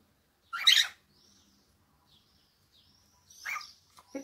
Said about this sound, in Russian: Целый день прислушивается к трелям, птиц-трелям,